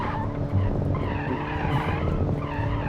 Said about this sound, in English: so I gotta test out if this thing can drift even though it's front-wheel drive and 4-banger powered